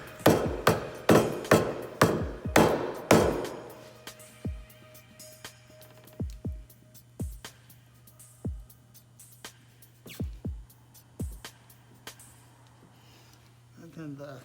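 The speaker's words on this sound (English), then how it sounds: "You also need a probably rubber mallet too, just to get it up the rest of the way." A rubber mallet taps a polyurethane transmission mount into place on a 2017 Mk6 car: a quick run of loud, close blows, then slower, spaced single taps with a faint steady hum underneath.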